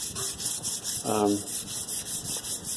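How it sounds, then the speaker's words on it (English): A painted guitar body is hand-sanded with 800 grit sandpaper in steady back-and-forth strokes, a close, rhythmic gritty rasp repeating about every third of a second, with a faint voiced sound partway through. "I'll sand back and forth this way too, really getting in on the edges"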